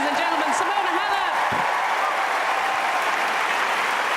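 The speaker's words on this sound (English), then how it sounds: "A standing ovation from everybody here, including the royal family" The Wimbledon crowd, royal family included, gives a standing ovation after Simona Halep's match. Loud, steady applause fills the whole stretch, with a commentator talking over it.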